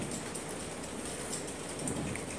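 Steady rain falls alone in a continuous, even hiss at moderate level, with no talk over it.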